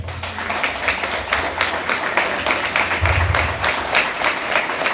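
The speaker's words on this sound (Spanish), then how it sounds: "aplauso al Señor." A church congregation applauds during a sermon, dense, steady clapping that fills the space for the full stretch without letting up.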